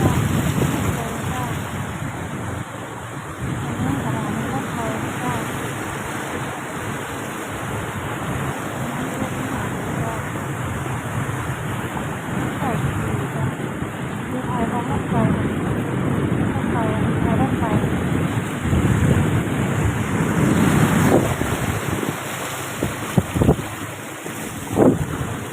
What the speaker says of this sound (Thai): ลุยน้ำไปเลย